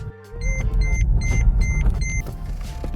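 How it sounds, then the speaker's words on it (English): A Mercedes SL R230 starts up: a short whir of the starter, then the engine catches and settles into a loud, steady idle close by, with a few electronic beeps repeating over it. "what I'm going to try and do is start the car"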